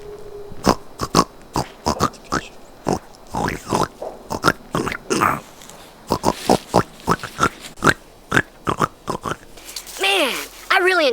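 Pig on a farm grunting and oinking in a rapid series of short, close bursts, with a chicken nearby and people talking over parts of it.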